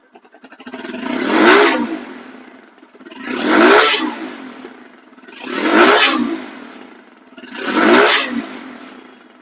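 A TVS Stryker 125cc motorcycle engine revs four times in a steady pattern, each rise swelling and falling back to idle, loud and close.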